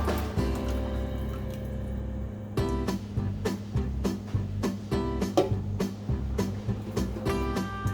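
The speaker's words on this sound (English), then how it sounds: "This is the spicy miso mix that we made earlier, so I'm just going to pour that in very carefully." Spicy miso mix poured carefully into a ramen broth base, with irregular drips and small liquid splashes, close and quiet.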